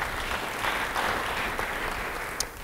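Applause from a church congregation during a pastor's sermon, a steady broadband wash of clapping held at an even level throughout, with no voices over it.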